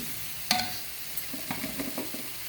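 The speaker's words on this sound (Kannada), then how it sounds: "ಈಗ ಒಂಚೂರು ಹುಣಸೆ ಹಣ್ಣೀರಲ್ಲಿ ಸ್ವಲ್ಪ ಒಂದು ನಿಮಿಷ ಬೇಯಲಿ ಸೊಪ್ಪು ಬೇಯಲಿ" Fenugreek greens cooking in tamarind water in a pan, opening with a sharp clank of a stirring spoon, then a soft bubbling sizzle and light stirring scrapes, near and without voices.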